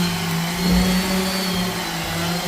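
A paint sprayer's air compressor runs at a building site in the Philippines, a steady, fairly loud motor hum with a constant low tone and slight surges.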